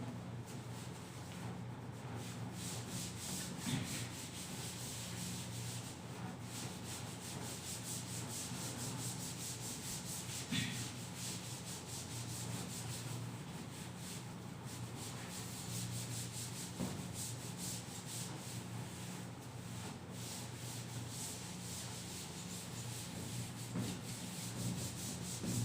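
Board eraser rubbing maths writing off a classroom board, a long steady scrubbing with a rhythmic back-and-forth texture at close range and no talking.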